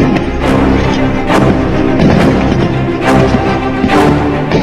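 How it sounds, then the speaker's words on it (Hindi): Gunfire and explosions in a battle between Taliban and resistance forces in Panjshir, Afghanistan: a loud, continuous rumble of shooting broken every second or so by heavy booming blasts. "गोलियों की गड़गड़ाहट के बीच थोड़ी थोड़ी देर में ऐसे धमाके हो रहे हैं।"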